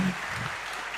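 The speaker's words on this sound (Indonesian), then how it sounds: "beri tepuk tangan untuk semuanya" Audience clapping at a police leadership seminar, a short steady wash of applause with no clear pauses.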